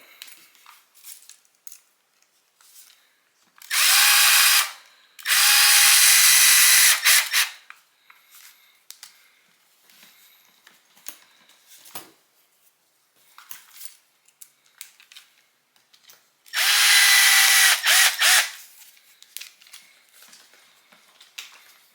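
Power driver runs screws back into the axle of an Axial SCX6 RC crawler in three loud bursts of whirring, with quiet handling clicks and rattles between them.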